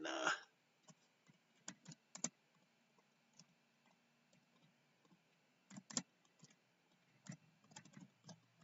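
Computer keyboard keys click sporadically in short bursts and single taps, quiet and close, with long near-silent gaps between them.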